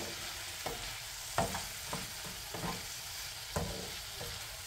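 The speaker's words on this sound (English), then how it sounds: "Let them saute, stir them here and there" Onions and green peppers sautéing in a pan, a steady sizzle broken by several distinct scrapes and clacks as a utensil stirs them every half second or so, close and alone.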